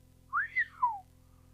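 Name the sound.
man whistling in surprise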